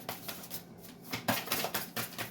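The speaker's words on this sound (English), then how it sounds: "One more shuffle and I'll pull from the top." Close, crisp papery flicks in quick irregular bursts, the sound of a deck of cards being shuffled by hand.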